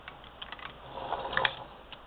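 A hand crank turning the bobbin winder on a Singer 99-13 sewing machine, a soft continuous mechanical whir with light ticking and clicking, fairly quiet and close.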